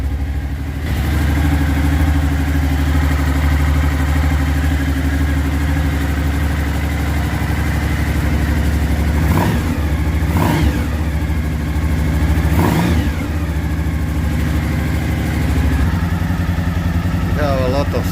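Suzuki V-Strom DL1 motorcycle, cold after a clutch basket change and valve adjustment, idles steadily up close with a throaty drone, broken by a few sharp revs around the middle and a short blip near the end.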